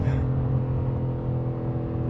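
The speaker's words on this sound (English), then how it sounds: "Doesn't like if I hit the rev." A 2025 BMW M4 Competition engine is pushed to the top of its rev band and resists the shift, giving a loud, close, rumbling roar that settles into a steady growl.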